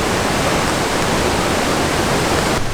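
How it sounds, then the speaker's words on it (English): A large waterfall gushes out of a hillside after rain, a loud, steady broadband roar of rushing water that fills the whole stretch without pause or talk. "there was a huge waterfall spewing out of the side of the hill up there"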